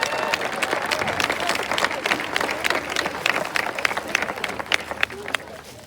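A homecoming pep assembly crowd in a school gym claps hard and cheers, sharp rapid handclaps and shouts filling the room continuously.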